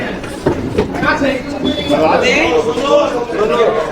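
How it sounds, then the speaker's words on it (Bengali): A train rumbles and clatters into a station, with wheels on the rails, while people talk loudly nearby over the noise. "ট্রেন ঢুকলো রে ট্রেন ঢুকলো"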